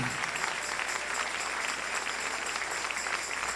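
Congregation applauding the King during a Spanish-language church service, a dense, even wash of clapping that fills the short stretch at a steady level, with faint voices mixed in.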